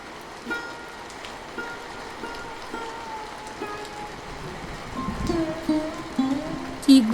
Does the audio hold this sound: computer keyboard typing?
no